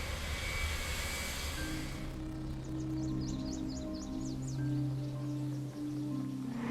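A C-5M Super Galaxy aircraft's engines run during an engine test, a steady distant roar with a droning hum throughout.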